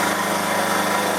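An Emco F1 CNC milling machine cuts a model engine pan at a 200 mm per minute feed, producing a steady, dense, close mechanical whir and grinding hiss.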